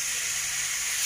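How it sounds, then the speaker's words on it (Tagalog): Pork belly skin fries in hot oil for kau yuk, giving a steady, dense hiss and sizzle that stays even throughout, with no voices. "I-fry natin siya hanggang na mag-slightly brown ang skin"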